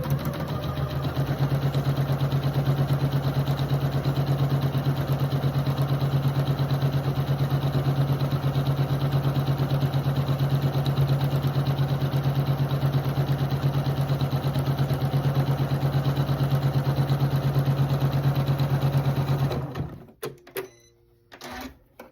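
Sewing machine stitching quarter-inch seams beside diagonal lines on fabric for half-square triangles, a steady continuous mechanical whir with a rapid needle rhythm, close and loud, stopping abruptly near the end.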